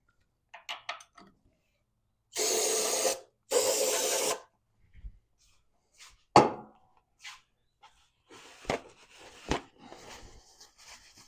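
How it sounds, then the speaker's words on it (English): Two short hissing bursts of aerosol brake cleaner spray onto aluminum parts of a HEMI 5.7 engine being torn down, followed by scattered clinks, taps and handling noises from nearby tools. "I'll just spray them down with some brake clean here."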